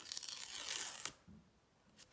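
A quick tearing rip of a paper packet along its perforation, ending in a sharp snap, followed by faint rustling; close and soft.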